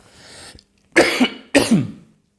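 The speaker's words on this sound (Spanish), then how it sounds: "Uy, mucha tos." A person coughs twice in sharp, harsh bursts, each with a rough tail, after a faint breathy sound; close and loud, with no speech.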